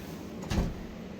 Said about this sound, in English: And because I like to open all the drawers